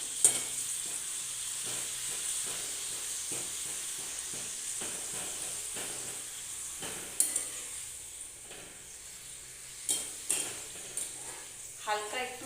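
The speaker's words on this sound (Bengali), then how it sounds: "এইভাবে প্রত্যেকটা পাঁপড় ভেজে নিয়ে আবারও ফিরে আসছি।" Papad fries in hot oil on low heat with a continuous soft sizzle and hiss, punctuated by occasional metal utensil clinks and stirring scrapes against the pan.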